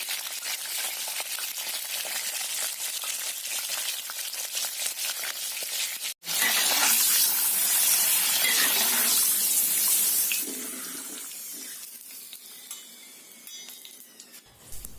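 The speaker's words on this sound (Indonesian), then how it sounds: "Kemudian baru kita goreng jengkol dan ikan asinnya." Jengkol and salted fish frying in a pan for Padang-style green sambal, a loud steady sizzle and crackle that cuts out briefly near the middle, then returns and slowly fades toward the end.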